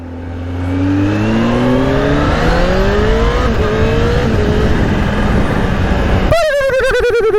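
A Kawasaki Z H2 motorcycle engine revs loud and close, its pitch climbing in steady sweeps for several seconds, then drops sharply into a wavering, bubbling idle.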